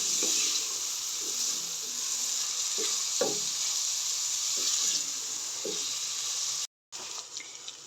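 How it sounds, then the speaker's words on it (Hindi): Finely chopped onions fry in a pan for baingan bharta, a broad steady sizzle with a few soft scraping stirs close by, cut by a brief silence near the end. "इसको भी अच्छे से फ्राई करेंगे, इसका कलर चेंज होने तक।"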